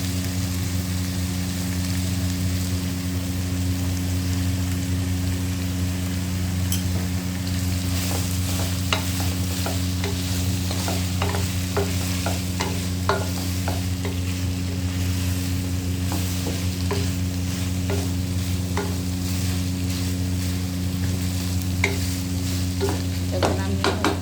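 Peas fry in a pan, a soft continuous sizzle with scattered scraping clicks of stirring that pick up midway, all over a steady low mechanical hum, with no voices.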